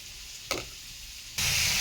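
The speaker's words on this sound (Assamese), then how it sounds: "এই মূলা পাত আৰু লাই পাত তাত নহৰু দিয়ে মই ভাজিছোঁ" Radish leaves and lai leaves fry with garlic in hot oil. A sharp clatter comes first, then a soft hiss, and a loud sizzle swells near the end, close and with no talk.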